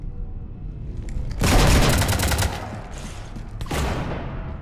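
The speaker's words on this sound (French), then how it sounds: "Arrêtez de tirer sur mon vaisseau!" Gunfire aimed at a ship erupts in a loud, roaring burst, then a second shorter volley follows, during a Citadel cinematic in the video game Mass Effect 3.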